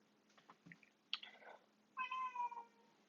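A pet cat named Bambi gives a few soft, drawn-out meows indoors, faint and close, with small clicks between the calls and no one talking.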